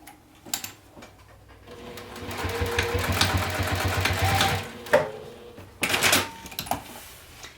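A sewing machine basts a seam on a crossbody bag in one steady run of stitching, near and fairly loud, with short clicks and handling knocks before and after.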